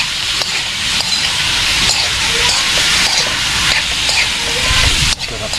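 Ingredients sauté in a hot pan with a constant loud sizzling hiss and light stirring clicks, and the sound drops off abruptly just before the end.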